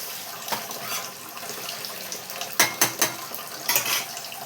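Curry made without tomato, with ginger-garlic paste, simmers in a pan on the stove. It gives a soft, steady hiss, and several sharp clinks and scrapes from a utensil cluster near the middle and end.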